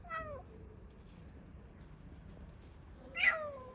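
A newly adopted house cat meows twice, one short call at the start and another a few seconds later, both fairly faint against quiet indoor background.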